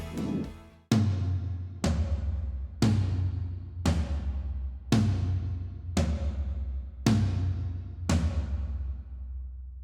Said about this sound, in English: After adding a few Remo crown gels for some overtone control, the toms sound like this.